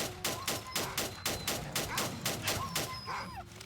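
Rapid rifle gunfire from the video game STALKER: Call of Pripyat, about a dozen evenly spaced loud shots in a steady rhythm, with faint creature yelps between them.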